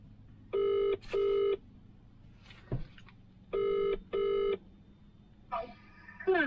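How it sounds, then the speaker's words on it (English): Telephone keypad tones beep in two pairs of steady dual-tone bursts, with a faint click between them, as a number is dialed for a call; a brief trill of ringing starts at the end, with no talk over it. "So I'm going to call her now."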